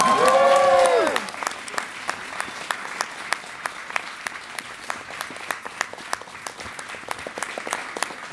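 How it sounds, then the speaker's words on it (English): Concert audience applauding at Mac Birmingham for a show, dense clapping throughout with a brief cheer or whoop at the start, steady and close. "You don't have to stop clapping."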